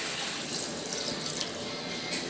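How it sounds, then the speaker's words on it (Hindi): Water is poured steadily into a pan of cooking chicken tikka curry, giving a continuous splashing rush for a couple of seconds at moderate volume, with no talking. "पानी दिया है अभी"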